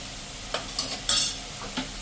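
Spices such as red chilli and coriander-cumin powder are stirred in a pan for bottle gourd and fenugreek thepla. A few quick, soft scrapes sound over a faint low sizzle, close and without talk.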